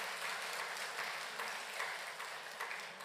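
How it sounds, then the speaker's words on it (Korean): A church congregation at a Sunday service claps steadily together, a soft, diffuse patter of many hands heard from a distance and sustained throughout. "우리 박수 좀 해주세요"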